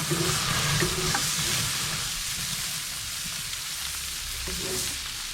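Burgers sizzle steadily on a Big Green Egg grill, with a few faint scrapes and knocks as the patties are shifted aside; no one speaks.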